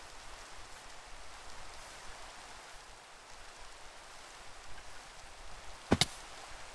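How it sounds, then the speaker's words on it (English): Steady, soft rain patter in Minecraft fills the scene, with a single sharp click near the end. "Oh, it's raining."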